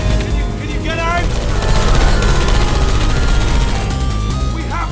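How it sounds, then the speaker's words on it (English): Rapid bursts of Portal video game gunfire and explosions crackle under a dense layer of game music and effects, with a voice talking over the action. "I heard gunfire!"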